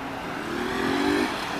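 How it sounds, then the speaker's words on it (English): Motorbikes and traffic moving through a busy intersection, a steady engine drone with one rising whine as a vehicle accelerates past, fairly close and continuous. "There are so many motorcycles here"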